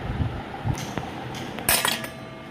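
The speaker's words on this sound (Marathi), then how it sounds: "सर्वात पहिले तर आपल्याला अंडं फोडून घेऊन घ्यायचं" Eggs cracked for a wheat-flour batter, giving a few sharp clinks and taps against a bowl, with a brighter clatter near the end, close and fairly quiet.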